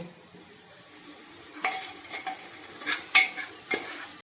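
Spice masala for chicken stew stir-fried in a pan, a steady soft sizzle with several sharp scrapes and clinks of a spoon against the pan, the stirring growing busier toward the end.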